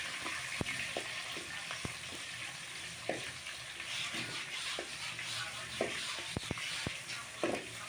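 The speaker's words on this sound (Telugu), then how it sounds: "ఉల్లిపాయలు గోల్డెన్ కలర్లోకి వచ్చేంత వరకు దాన్ని తిప్పుతానే ఉండండి" Chopped onions fry in hot oil with cumin seeds for a dal tempering, a steady soft sizzle broken by scattered spoon taps and scrapes as they are stirred in the pan.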